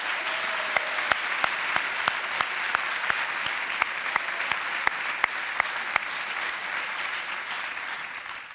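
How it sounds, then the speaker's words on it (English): An audience at a school district staff awards event applauds its award winners with steady, moderately loud clapping, a few sharp individual claps standing out before the applause tapers at the end. "How about a round of applause for all of our award winners today?"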